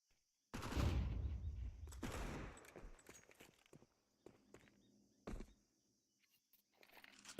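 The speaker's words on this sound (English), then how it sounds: "Forky's in Cave does ring out a couple of shots" A couple of pistol shots ring out during a Counter-Strike match, a loud burst near the start followed by scattered sharper cracks and footstep-like clatter at moderate distance, with no talk.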